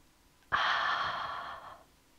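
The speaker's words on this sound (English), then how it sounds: "take a deep breath in, then out, and again in" A single deep breath sounds close to the microphone during a kids' yoga session, a sudden airy onset that holds steadily for over a second before fading out, with no speech.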